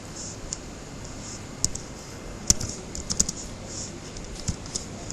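Computer keyboard typing an SQL query for an Android SQLite app, a run of light, fairly quiet key clicks with a few sharper taps, close by and heard alone with no talking.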